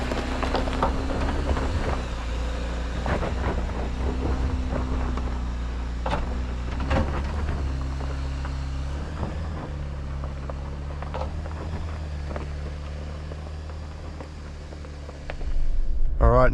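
Jeep Wrangler Rubicon crawling off-road on light throttle, a low steady engine drone from inside the cabin with occasional creaks and knocks from the suspension and body, while someone talks over it.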